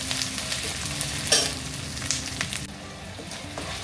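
Curry leaves fry in hot oil for a fish curry as a spoon stirs them, a dense close sizzle with a couple of scraping strokes, easing slightly toward the end.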